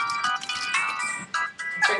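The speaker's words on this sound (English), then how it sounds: "Turn off your cell phone, please." A cell phone ringtone goes off during a university lecture: a bright, tuneful run of repeated electronic notes, fairly loud and close, with short gaps between phrases.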